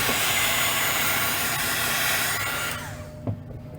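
A heat tool blows a steady, loud rushing hiss while drying a card coloured with alcohol ink, then cuts off near the end, leaving a faint tap.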